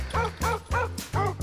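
Dogs at a Pug-A-Ween costume event give four loud, evenly spaced yapping barks close by, each short and sharp with a slight whine.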